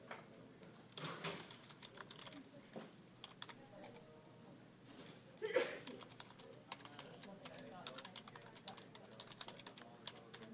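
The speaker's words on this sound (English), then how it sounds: "I'm sure you hear my keyboard clacking." Someone types on a computer keyboard nearby, giving quick, irregular clacking keystrokes. The sound is fairly quiet and steady and carries on alone for about ten seconds.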